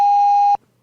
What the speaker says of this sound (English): we used to have to beep his name